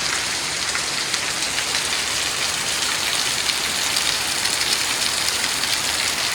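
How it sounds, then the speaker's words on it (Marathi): Steady rain pours down in a dense, even hiss, close by and constant, with no voices. "आता जरा पाऊस पडल्यासारखं वाटतं आहे"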